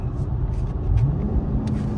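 A 2023 Dodge Scat Pack fitted with Dynomax Race Bullets exhaust in eco mode, giving a steady, deep close-up rumble at idle with a slight swell partway through.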